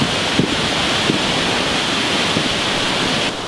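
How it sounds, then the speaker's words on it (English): Loud, constant roar of heavy flash flood water rushing past after rain, with low thuds of rocks rolling underneath, dense and unbroken with no voices. "This is what it looks like when the water runs heavy."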